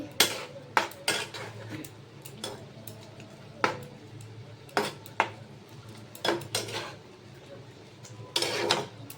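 Grated coconut being stirred into kochur loti (taro stolon curry) in a pan, heard as a series of sharp, separate clinks and scrapes of a spoon against the metal, close and intermittent over a low background hum.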